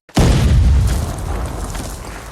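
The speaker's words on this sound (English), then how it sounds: "Parker pulls the pin and throws the grenade." A grenade explodes in a film: a single sudden, loud boom that rolls into a deep rumble and slowly fades over about two seconds.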